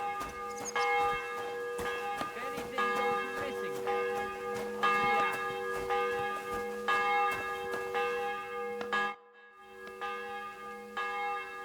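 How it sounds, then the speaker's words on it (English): A church bell tolls repeatedly at an even pace in the video game Kingdom Come: Deliverance II, its rich ringing overtones lingering between strikes, with faint background sounds and a brief drop-out near the end. "The bell's ringing for Hans the 5th time."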